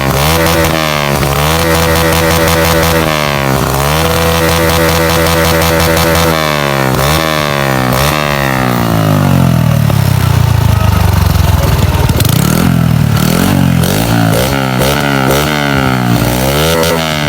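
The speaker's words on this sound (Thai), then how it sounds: "มาลองเบิ้ลให้ฟังกันนะ" A motorcycle engine revs hard through a loud aftermarket exhaust pipe, repeatedly blipping up and dropping back, then holding a long high rev before falling and blipping again, very close and harsh throughout.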